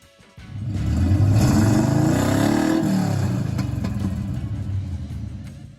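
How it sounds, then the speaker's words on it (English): A 1965 Pontiac GTO with the Tri-Power engine revs hard, a loud close rumbling roar that rises, holds for several seconds and slowly eases off, with no talking. "'65 Pontiac GTO Tri-Power."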